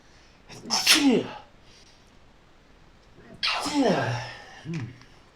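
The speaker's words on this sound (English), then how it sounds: "I think I'm going to sneeze." A person sneezes twice in close range, each burst sharp and loud with a quick intake before it, separated by a short pause in a quiet room.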